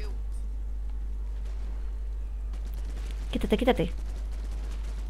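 A short burst of rapid automatic gunfire in a zombie apocalypse video game rattles out over steady background game noise, while a player speaks urgently nearby.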